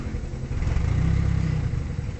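Toyota Altis engine idling roughly, a steady low mechanical chug whose rpm swells and sags, close and loud with no voices.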